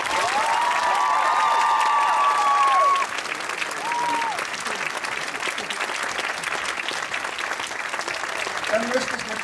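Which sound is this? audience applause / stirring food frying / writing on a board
audience applause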